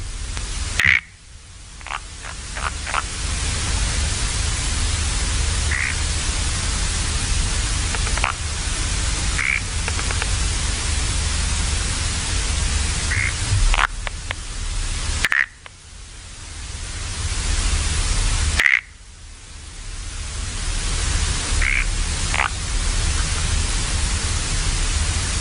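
Asian tree frogs calling in a recording, with sharp clicking croaks repeated at intervals over a constant hiss of background noise, plus a few sudden loud clicks.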